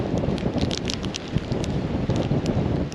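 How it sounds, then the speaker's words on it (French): Strong wind buffets the microphone on a sea wall during surfcasting, a steady loud roar with rustling gusts and no talk. "il y a beaucoup de vent, mais c'est agréable"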